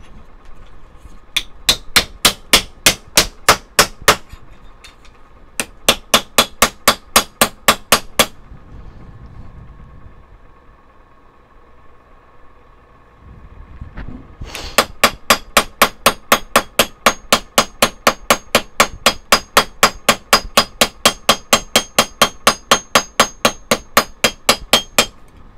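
Rapid, evenly spaced hammer blows ring on metal while shaping whale tail pendants, in several long bursts, with a short quiet pause in the middle before the striking resumes.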